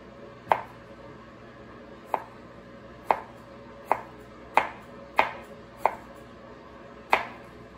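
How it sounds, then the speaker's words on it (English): A Shun kitchen knife slices through food onto a cutting board, producing eight sharp, separate knocks spaced roughly a second apart, close and clear with no talking. "Now we're gonna use this Shun blade and see what we can do here."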